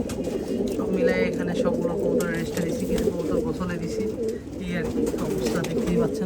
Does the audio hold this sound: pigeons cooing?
yes